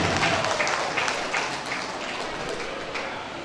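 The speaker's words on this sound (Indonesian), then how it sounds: "Tepuk tangan je dulu." Audience applause at a halal bihalal community gathering and building inauguration in Dumai, a steady crowd clapping that fills the whole stretch, loud at first and easing slightly toward the end.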